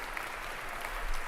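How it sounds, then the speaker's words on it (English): A brief, even burst of crowd applause, a dense wash of many clapping hands heard at a distance, fairly faint and steady throughout. "Round of applause for that, man."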